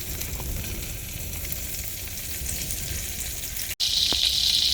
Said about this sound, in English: I turned on the flame, and so I'm going to add some butter, probably 2 tablespoons